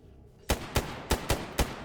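Teammates open fire in S.T.A.L.K.E.R. GAMMA: five sharp, close gunshots crack in a steady rhythm about a third of a second apart after a quiet start.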